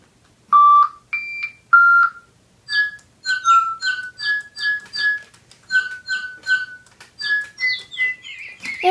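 Digibirds toy pet birds chirp and whistle together in a rapid series of bright electronic tweets, clear and close, with short pulsed notes repeating in a lively rhythm.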